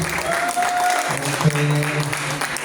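Steady audience applause for Bu Mulyaningsih fills a hall at a religious talk on living without usury, fairly close and even throughout, with a tonal hum underneath.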